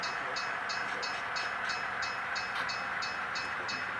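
An SP&S Alco diesel locomotive at the rear of a consist rolls past in downtown Seattle, giving a steady, close rumbling roar with a regular high pulsing rhythm layered over it throughout.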